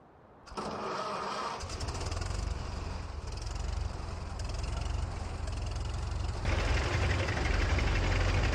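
An old tractor engine in Farming Simulator 19 starts up and runs with a steady, rough chugging idle that grows slightly louder toward the end.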